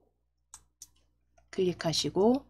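Two sharp computer mouse clicks come in quick succession in a quiet room, followed by a person speaking close by.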